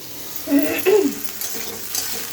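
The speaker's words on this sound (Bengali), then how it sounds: "ততক্ষণ বেগুনগুলো ভাজা হোক।" Eggplant slices fry in a pan with a soft, steady sizzle, broken by a few louder stirring scrapes and light utensil clinks near the middle.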